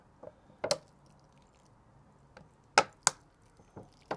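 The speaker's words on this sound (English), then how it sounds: "I'm going to make this soil very wet" Compost for rhododendron cuttings is soaked with water, producing a handful of sharp, close wet splashes and squelches spaced irregularly across an otherwise quiet stretch.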